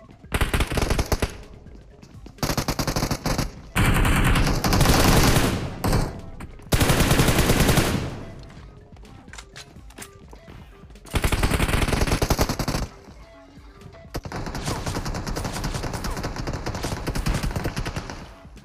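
Automatic gunfire in PUBG Mobile, loud close bursts of rapid shots separated by short pauses, with longer sustained strings of fire later on.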